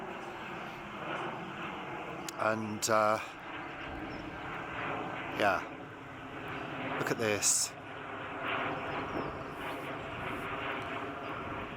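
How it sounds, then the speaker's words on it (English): A fixed-wing airplane passes overhead along a flight path above Kew Gardens, a steady broad engine roar running throughout beneath a speaking voice and brief nearby noises. "Sorry about the plane noise,"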